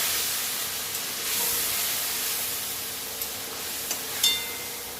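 Turmeric and cumin powder sizzle with a little water in a cooking pan, giving a steady soft hiss with a few faint clicks and taps from the pan.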